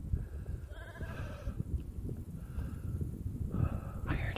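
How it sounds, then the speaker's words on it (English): Sheep bleating out in the English countryside, a few wavering, voice-like calls separated by quiet snorts and breathy sounds, fairly faint and unaccompanied by speech. "I heard a sheep."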